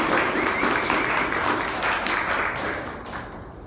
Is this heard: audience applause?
yes